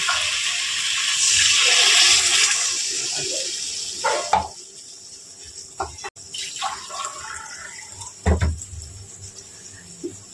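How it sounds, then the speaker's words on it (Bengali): Water pours into a pan of fried spices while boal fish curry is cooked, a steady rushing splash for a few seconds, then sporadic clinks and clatter of the pan and utensils. "2 কাপের একটু কম জল দিলাম।"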